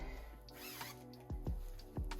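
Short zipper pulls on a faux silk cushion cover, three quick rasping strokes near the end following faint handling rustles, quiet and close.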